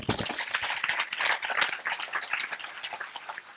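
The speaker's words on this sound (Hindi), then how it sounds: "पेनक्रियाज की सूजन की इस दवा पेंकोग्रिड के लिए हमें जोर से ताली बजानी चाहिए।" Audience at an Ayurveda training camp lecture clapping loudly, a burst of dense, uneven claps that is strongest at the start and gradually thins out.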